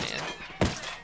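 Gunfire rings out in the video game Ghost Recon Wildlands: a loud, sharp shot cracks midway, followed by the start of another at the very end, over a dense background of ambient game noise.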